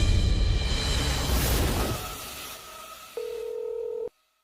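Beeps from a telephone being dialed, a couple of short steady tones near the end after a noisy whooshing start, then sudden silence.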